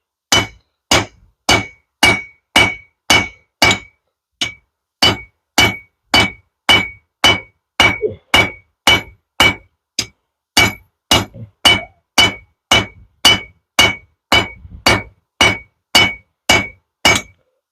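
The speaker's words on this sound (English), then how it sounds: "I'm switched over to the cross peen, and what that's going to do is allow me to draw this out in one direction." Cross peen hammer drawing out hot steel on an anvil while forging a bick iron: about thirty sharp, ringing metallic blows in a steady, even rhythm, loud and close, with one brief pause early on.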